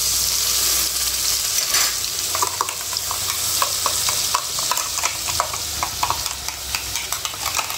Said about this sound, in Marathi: तिखट छानपैकी हलवून घेतलं की त्यात थोडंसं मीठ टाकायचं आहे, पुन्हा हलवायचं आहे